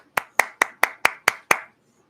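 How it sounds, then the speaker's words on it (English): Seven sparse, evenly spaced hand claps from a single person, a slow mock-polite golf clap, crisp and close, with silence after the last one. "Golf clap"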